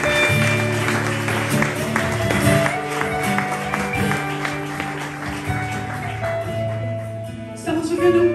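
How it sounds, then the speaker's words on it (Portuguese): Church congregation clapping for Jesus during a sermon, steady applause under sustained music and singing, loud and continuous before easing slightly near the end. "Aplaude a Jesus."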